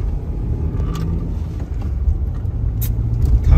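A Toyota Camry 30 car engine runs with a loud, steady low rumble heard close by, with a few faint clicks over the drone.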